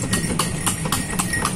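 Hooves of a horse pulling a delman carriage clip-clop in a steady rhythm around a fountain park in Purwakarta, close and clear over a constant background hum.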